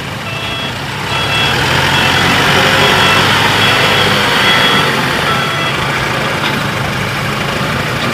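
A dump truck hauling stones to a temple idles steadily with a heavy, low engine rumble close by, joined by intermittent reversing beeps, with no talking.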